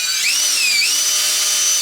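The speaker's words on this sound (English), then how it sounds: "Got my drill at the same time" A power drill runs steadily and close up, its high whine dipping and rising as the speed changes, with no voices.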